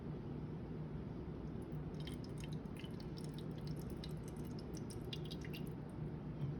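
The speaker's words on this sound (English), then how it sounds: "I'm just gonna pour this water in here." Boiled water poured from a pot, formerly melted ice, into a container: a steady low liquid rush with light dripping and splashing on top, continuous and fairly close throughout.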